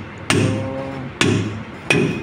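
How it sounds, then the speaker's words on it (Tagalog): Three sharp hammer blows strike metal clamps on a bus at irregular intervals, each ringing briefly before fading, with no talking. "pati yung mga clamp binabalik na rin, pinupukpok na"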